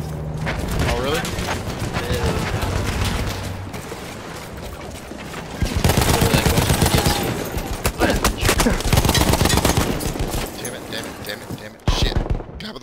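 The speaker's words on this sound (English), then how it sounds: "Machine gun in the back." Loud machine gun fire in the video game Battlefield 1, rapid sustained bursts with heavy gunfire and a brief pause, mixed with players talking over it.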